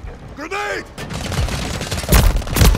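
Several gunshots in Call of Duty MW3 during sniper play, sharp bursts clustered near the end over a busy game background, with a brief tonal sweep early on.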